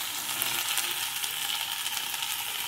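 Small boneless chicken pieces fry in a pan with a steady, bright sizzle and crackle that stays close and even throughout, with no talking.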